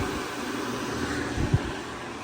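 A blow dryer runs steadily with a constant airy whoosh and low motor hum, close and unbroken, with one short bump partway through.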